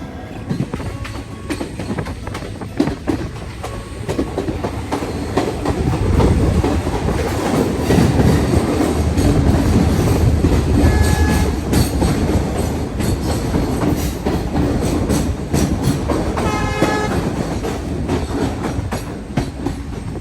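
Passenger train on the line to Dudhsagar in Goa, loud and close, with a continuous heavy rumble, rhythmic clickety-clack of wheels over rail joints and a brief metallic squeal near the end.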